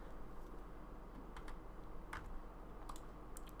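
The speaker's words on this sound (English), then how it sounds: "So if you hear me typing away, that's why." Quiet, irregular keystrokes on a computer keyboard tap in short bursts against a faint background hum, with no voices.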